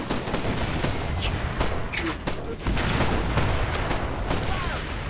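Sustained battlefield gunfire in the video game Operation Flashpoint Red River, rapid overlapping rifle and machine-gun bursts with heavy booms, loud and dense throughout.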